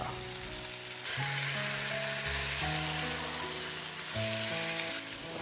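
Chicken sautés in a non-stick pan, a steady close sizzle with a sharper surge after the first second, continuous and alone, with tonal hum beneath.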